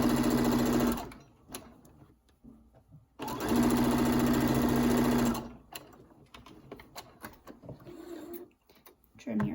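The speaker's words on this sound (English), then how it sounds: "Make sure you back stitch at the bottom and the top of your seam." A sewing machine runs in two bursts, back stitching a seam on a twin flat sheet being turned into a fitted sheet; each steady motor whir lasts about a second before stopping, with quieter handling sounds between.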